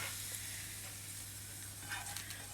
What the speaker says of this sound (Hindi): ये हरी मिर्च और लहसुन का हमने जो तड़का तैयार किया है वो इसके ऊपर डाल देंगे।